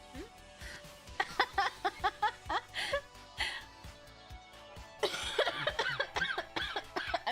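Repeated coughing fits, a string of short harsh bursts close by with a louder cluster near the end, mixed with breathy voice sounds.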